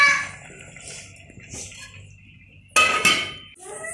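A pot lid clinks shut in a home kitchen while a potato curry for puri cooks, a sharp metallic clatter near the end after quieter kitchen clinks and rustling, close and fairly loud with no talk.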